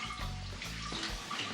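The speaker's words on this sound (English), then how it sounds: "water is leaking." Water running and trickling from an espresso machine in a café setting, a faint steady wash of splashing water with no talk.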